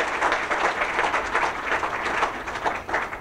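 An audience at a school campus opening applauds Dr. Abdullah Farooq, the Antelope Valley Hospital Board president, with steady, fairly close clapping throughout.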